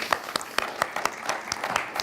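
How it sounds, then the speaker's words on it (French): Applause from an audience thanking the partners and speakers at the close of a conference event, sparse and uneven with distinct individual claps rather than a dense roar, moderately quiet and close. "que je vous demande d'applaudir."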